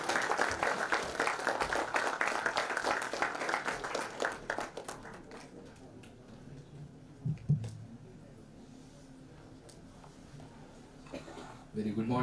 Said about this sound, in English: Let's welcome Sir Sohan Roy with a round of applause.